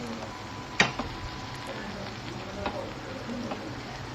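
Mashed eggplant bharit is stirred in a pan, with a soft continuous sizzle, a sharp clink of a spoon early on and lighter scraping taps afterward.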